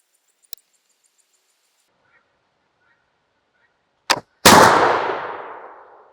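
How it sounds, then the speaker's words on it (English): A flintlock muzzleloader fires after a hang fire: a faint click from the lock, several seconds of near silence, a brief pan flash, then a loud close gunshot that booms and decays slowly. "we had quite a bit of a hang fire there, but it did go off with the first shot"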